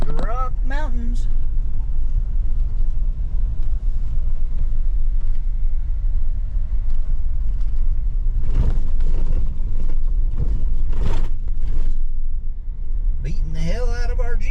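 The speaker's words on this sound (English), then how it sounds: "Beating the hell out of our Jeep for sure. Holes, washboardy, dusty, brakes are squeaking" Jeep bouncing along a rough, holey, washboard dirt road on the Custer Motorway in Idaho's mountains, a steady loud rumble with rattles throughout and brief squeaks near the start and end, people talking over it.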